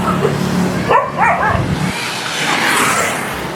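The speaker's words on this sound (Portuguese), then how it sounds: "O cachorrinho tá bravo ali, que ele não venha correr atrás de mim," A small dog barks and yips angrily outdoors, a short cluster of sharp, high calls near the start followed by a steady background hiss of street ambience.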